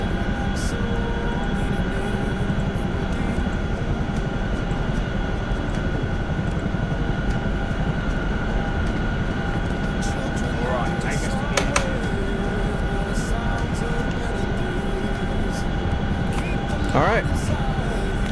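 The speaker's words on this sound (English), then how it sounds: "I'm gonna go ahead and turn the volume down just a little bit for the Chinook flight, because the Chinook's so friggin' loud." A Chinook helicopter flies in a video game, giving a loud, steady droning rumble that runs unbroken through the whole stretch, with faint higher tones riding over it.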